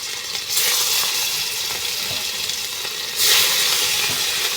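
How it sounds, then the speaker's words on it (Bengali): Fish slipped one by one into hot oil raise a loud, close sizzle. It swells into two strong bursts of hissing as pieces go in, then settles into a steady frying crackle, with no talking. "আমার তেলটা দেখেন গরম হয়ে গেছে এখন আমি এই যে আস্তে আস্তে আমার মাছগুলো দিয়ে দিতেছি"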